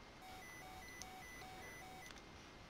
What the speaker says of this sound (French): Quand on sera près de la zone rouge, on aura une alarme.